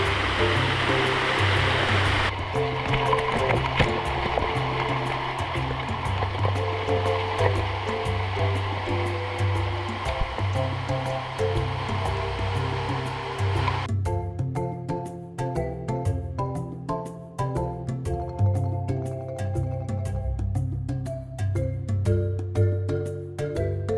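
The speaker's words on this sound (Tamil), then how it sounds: "ரொம்ப நேரம் வெயிட் பண்ணி வாட்டர் ஃபால்ஸை போட்டாங்க." A water park waterfall at Pogo Land in Pondicherry pours down in a steady, loud roar of rushing water, continuous throughout with no voices.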